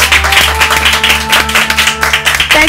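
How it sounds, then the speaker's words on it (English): Studio audience clapping on a quiz show, a dense steady patter of many hands held at an even level for the whole stretch, with a low hum running beneath it. "A round of applause."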